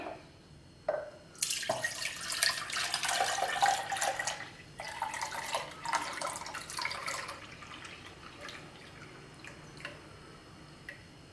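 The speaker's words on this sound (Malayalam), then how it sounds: "ഞാനിനി ഇത് ഈ പാത്രത്തിലേക്ക് ഒഴിച്ചു കൊടുക്കുകയാണ്" Homemade spiced buttermilk (sambaram) is poured into a clay pot: a close, steady splashing stream runs for about six seconds, then trails off into faint drips.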